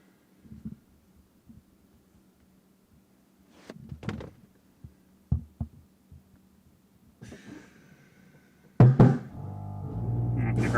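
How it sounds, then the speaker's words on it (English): An Airlift 3P air suspension compressor on a Dodge Charger Scat Pack raising the car to ride height: quiet clicks and thumps, then a sudden loud, steady mechanical hum with a buzzing edge running until the end. "I just went up to the ride height, and see, you can hear the air compressor maybe."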